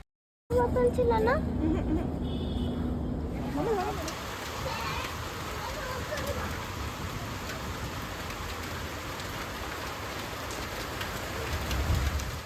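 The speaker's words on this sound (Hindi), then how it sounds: "मैंने सोचा नहीं था बारिश होना स्टार्ट हो जाएगा, वो भी इतना ज़ोर से" Heavy rain pours down in a loud, steady, dense wash that continues to the end, with a brief murmur of voices and other sounds at the start before the downpour takes over.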